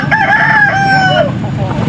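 A rooster crows once, loud and close, its call stretching out over the noisy background of a pet market in Angeles, Pampanga.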